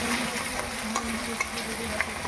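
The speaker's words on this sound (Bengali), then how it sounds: "আদা বাটাটা আমি দিয়ে দিলাম" Ginger paste sizzling in hot oil in a frying pan as chicken is cooked: a steady bright frying hiss with a few soft scraping clicks from stirring, close and continuous.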